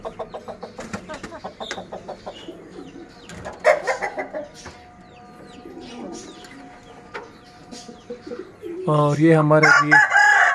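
Aseel chickens in a rooftop cage make scattered clucks and calls, and a loud rooster crow bursts out near the end, close and clear, with a brief spoken word.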